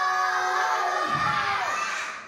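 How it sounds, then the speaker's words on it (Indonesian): A group of children shouts the takbir together in one loud, sustained burst of voices at a Quran learning centre, then the chorus trails off and fades. "Diambil bareng-bareng dan teriak bersama-sama, Allah!"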